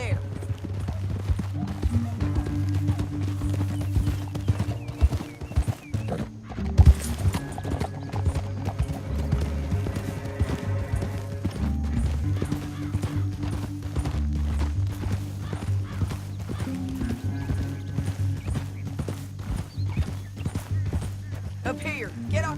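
Horse hooves gallop steadily in the Red Dead Redemption 2 video game, a continuous clip-clop rhythm under a low droning score and occasional game voices.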